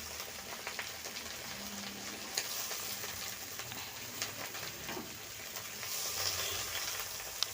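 Potatoes and onion stalks fry in a pan for an onion-stalk curry, giving a steady, fairly quiet broadband sizzle with small crackles and occasional stirring clatter and no talking.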